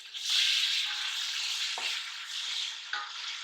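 Tomatoes frying with onions and softened trotters in a pan for pulao, a steady broad sizzle with a few soft stirring knocks, fairly quiet and without talk.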